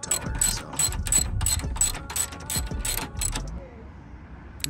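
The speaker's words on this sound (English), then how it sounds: "I'm gonna just remove these bolts from the strut tower" A ratchet clicks in a quick series of about ten sharp pawl strokes while loosening bolts on the strut tower of a ninth-generation Honda Civic, close and clear, then stops.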